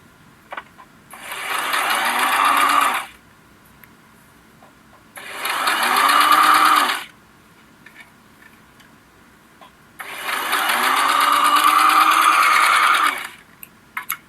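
Sewing machine stitching cotton fabric for a menstrual underwear project, three loud close bursts of rapid whirring stitching separated by short quiet pauses.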